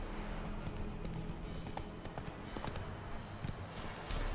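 Steady clip-clop of Roach the horse's hooves in The Witcher 3, trotting at an even rhythm close by over a constant game ambience.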